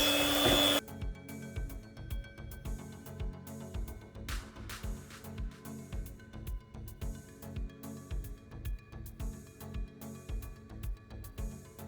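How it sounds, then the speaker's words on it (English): Electric hand mixer whirring through blended beans for Nigerian moi moi, a steady close motor drone with a regular pulsing beat as the beaters churn the thick paste, no voices. "using a hand mixer, I want to mix the beans"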